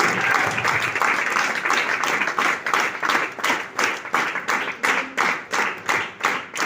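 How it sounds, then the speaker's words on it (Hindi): An indoor audience at a workshop claps loudly. Dense applause at first settles into a steady, rhythmic group clapping toward the end, with no talking. "तो अपनी तालियां शानदार रखिए, जोरदार रखिए।"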